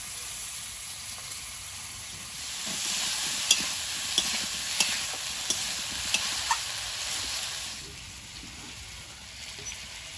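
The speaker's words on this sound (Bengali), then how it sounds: "তেলের মধ্যে দিয়ে দেবো কালো জিরে আদা কাঁচা লঙ্কা আলুটা দিয়ে দেবো" Potatoes frying in oil with nigella seeds, ginger and green chilli give a steady hiss and sizzle, with a few sharp clicks of a utensil against the pan.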